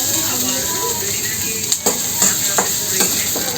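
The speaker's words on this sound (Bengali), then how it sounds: "আমরা তেলের ভিতরে আমরা হালকা করে পেঁয়াজটাকে আর রসুনটাকে ভেজে নেব" Onion and garlic frying lightly in hot oil, giving a steady close sizzle with a few sharp stirring clicks and scrapes of a utensil in the pan.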